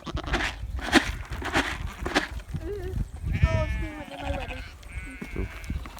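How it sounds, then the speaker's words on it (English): Blue Faced Leicester sheep on a farm bleat several times, wavering and fairly close, after a stretch of knocking and rustling, with people's voices also present. "There's a couple of random sheep down there."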